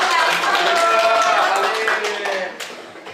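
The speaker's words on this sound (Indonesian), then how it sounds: "Ya, ayo kita tepuk tangan." An audience claps together at a school teachers' session on positive culture, a dense burst of applause that starts at full strength and gradually thins out over a few seconds.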